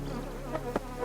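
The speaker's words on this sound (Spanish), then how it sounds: "a las abejas no les gusta ser molestadas y para que consigamos la preciosa miel necesitamos" Bees swarming around beehives give a soft, steady buzzing drone with faint wingbeat texture and a few brief louder swells as insects pass close.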